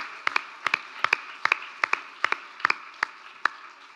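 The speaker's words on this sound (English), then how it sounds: "So give them a little round of applause as they go down" Sparse, scattered hand claps from a small audience greeting the quota ladies as they step down, a dozen or so distinct claps spread unevenly rather than a full ovation.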